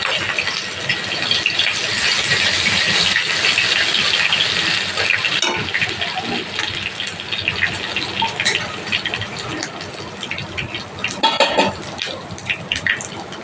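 Ginger sizzling and frying in a pan while cooking a vegetarian jackfruit and flat bean curry: a steady, loud hiss of hot oil with scattered crackles and pops, easing slightly partway through, with no talking.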